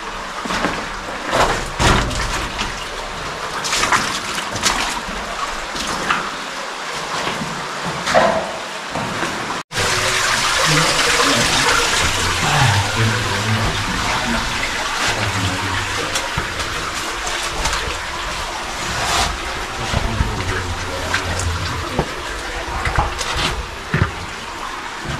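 An underground stream rushes through Hellhole Cave, a loud continuous roar of flowing water that grows fuller and steadier partway through, heard close with no speech over it.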